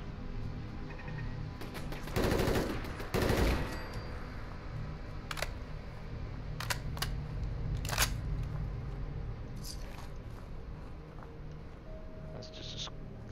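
Turret gunfire in Fallout 4, a few loud sharp bursts early on followed by scattered single cracks and impacts over a low game ambience.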